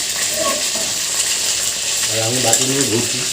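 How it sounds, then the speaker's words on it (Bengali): Chicken pieces frying and being stirred in a pan on a new induction cooker, with a steady sizzle throughout and brief scraping stirs toward the end. "এখানে চিকেনটা ভাজা চলছে"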